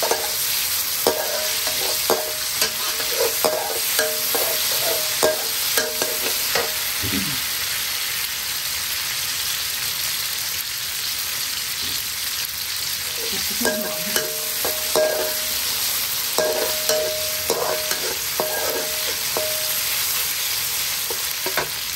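Long eggplant stir-fried in plenty of oil with salt for a vegetarian tofu dish: a steady, loud sizzle runs throughout, broken by repeated spatula scrapes and stirring strokes against the pan, with no one talking.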